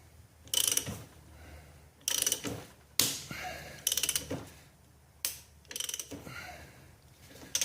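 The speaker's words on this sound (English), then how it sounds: "That's the plastic air seating, so that's what that popping noise is." Sharp popping and cracking bursts from the plastic seating on a U-joint being forced in with a press, on a Dodge Ram 2500/3500 6.7 Cummins front axle shaft. About seven loud, close snaps come at uneven intervals, with quiet gaps between them.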